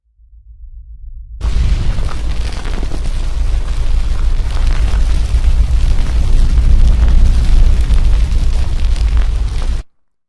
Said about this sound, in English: we are doing this fire effect. So here's a preview of it right now.